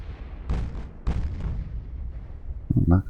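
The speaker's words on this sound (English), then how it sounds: "torpedo hit." Torpedo hits explode against a warship in the naval battle game Ultimate Admiral: Dreadnoughts, two deep, loud booms with long rumbling decay, followed by lower clanking impacts at the end.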